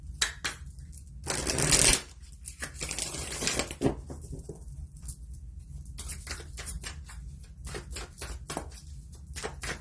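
Tarot cards are shuffled in close bursts of riffling and fluttering, with a louder rush near the start and a run of quick card snaps and taps afterward.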